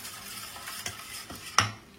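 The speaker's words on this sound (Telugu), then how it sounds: "వేసిన తాలింపు మొత్తం పెరుగులో వేసుకొని" Hot tempering hits yogurt for perugu vada and sizzles briefly as a spoon stirs and scrapes the bowl, ending in a sharp clink, all close up and without speech.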